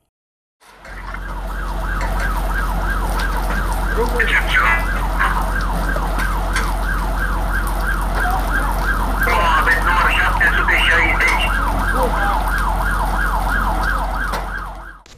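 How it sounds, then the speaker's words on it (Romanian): Siren of a fire engine, a water and foam firefighting truck: a loud, steady wailing tone cycling rapidly up and down for about fourteen seconds over a low engine rumble, with brief horn-like blasts mixed in. "La locul evenimentului au sosit un echipaj cu autospecială de stingere cu apă și spumă, un echipaj cu autoscară mecanică și un echipaj de poliție."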